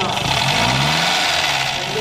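A Renault tractor engine starts and runs at an outdoor fair, a loud close rumbling idle with a rising revving tone, while people talk over it.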